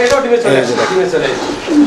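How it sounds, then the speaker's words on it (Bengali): A male Stretcher Blue Barless pigeon coos in short, close throaty bursts while someone talks over it. "দেখছেন নরের ডাক একদম ছটপটা কবুতর অ্যাক্টিভ কবুতর"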